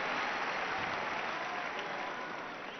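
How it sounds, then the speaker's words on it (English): Warm, sustained applause from the crowd at a tennis match during the London 2012 Olympic women's singles final featuring Serena Williams and Maria Sharapova. The dense clapping is loud and even, easing slightly at the end. "warm applause"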